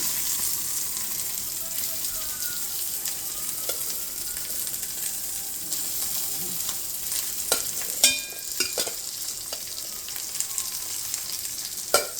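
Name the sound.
sweet corn frying in hot oil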